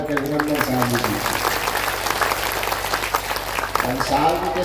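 Enthusiastic audience applause at a Shrimad Bhagavat Katha gathering, dense clapping sustained throughout alongside a voice speaking over it.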